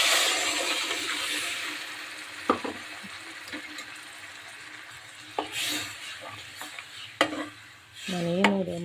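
Crushed onion and garlic with ground masala fry in a pan for mutton leg soup, a steady low sizzle under repeated stirring with a few sharp clinks of a spoon against the pan, no talk.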